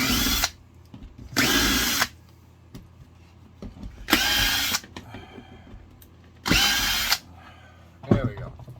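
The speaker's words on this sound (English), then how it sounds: "Alright, back with the screwdriver." A power screwdriver backs out screws from scrap brass in short loud whirring bursts, four runs separated by pauses with faint handling clicks and scrapes between them.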